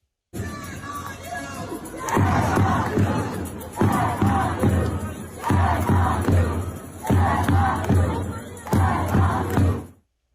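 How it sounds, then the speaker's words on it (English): A protest crowd at a Christmas market chants pro-Hamas slogans in loud, rhythmic bursts, each shouted phrase followed by a short pause, repeating about five times in a strong, close, unified chant. "Muslims waving Palestinian flags and chanting pro-Hamas slogans stormed a Christmas market over the weekend"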